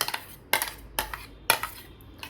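Vegetables being mixed with mayonnaise in a bowl: a spoon strikes the bowl in crisp, close metallic clinks, several sharp knocks roughly every half second with small rattles between, no voices.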